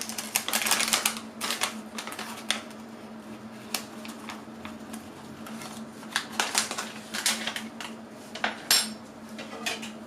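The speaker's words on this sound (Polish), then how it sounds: "Na samym początku mieszam taką Przepaczką, dlatego że nie chcę mieć mąki w całej kuchni." A whisk stirring gingerbread cake batter of flour, baking powder and baking soda in a bowl, giving repeated quick metallic clinks and scrapes against the bowl over a steady low hum, with no talking.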